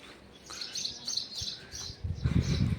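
Sparrows chirp in quick bright bursts around several nests, calls overlapping nearby, with a low rumble joining near the end.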